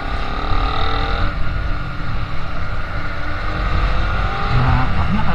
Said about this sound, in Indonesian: kita ngebencet gas